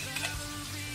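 Chili sambal with petai sizzles steadily in a pan, a close, continuous frying hiss.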